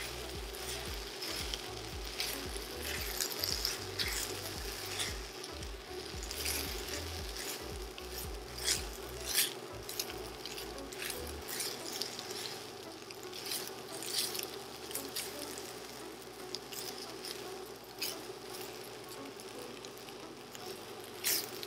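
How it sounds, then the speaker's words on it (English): Red quinoa with aromatics toasting in a pan as it is stirred: steady soft sizzling and crackle with scraping stir sounds, close up and moderately quiet, continuing without pause. "Then we're going to stir it to pick up all that flavor and to toast it a little bit before we add the liquid broth."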